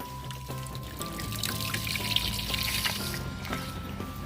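Water flowing steadily through a garden hose joined with the neck of a plastic bottle in place of a PVC fitting, a continuous close pouring and trickling rush with a faint steady hum underneath.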